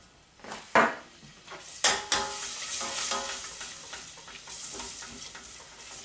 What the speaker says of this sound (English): I'm going to saute my garlic a little bit first